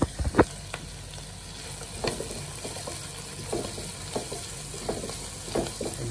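Garlic sizzling and browning in a pan for chicken menudo with chicken liver, a steady close frying hiss broken by several short stirring scrapes and clatters.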